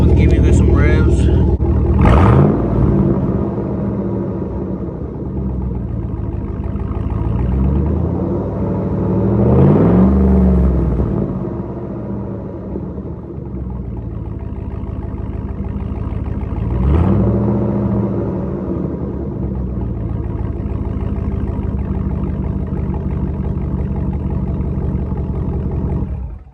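Cadillac Escalade with the muffler deleted and a straight 3-inch pipe, a deep loud exhaust rumble idling close by that swells into three throttle revs before settling back each time.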